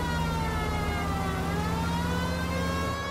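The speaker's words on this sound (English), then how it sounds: "I did have to maybe turn off my siren" A police car siren in the video game L.A. Noire wails steadily close by with a continuous, slowly shifting electronic tone, loud and alone throughout.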